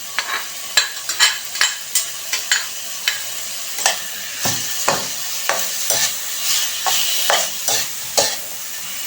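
Tocino made from pork belly fries in a little oil in a pan, a steady sizzle under frequent sharp scrapes and clacks of a utensil stirring the meat.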